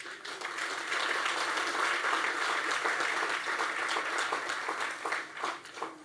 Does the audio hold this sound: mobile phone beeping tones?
no